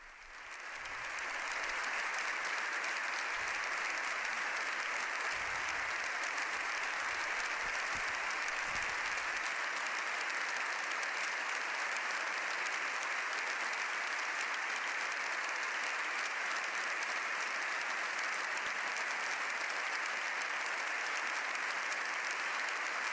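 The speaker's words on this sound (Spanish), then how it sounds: "Ambas cámaras, puestos en pie, aplauden largamente al Papa." Members of both houses of the Spanish parliament stand and applaud Pope Leo XIV at length, a dense, sustained ovation that fills the chamber without pause.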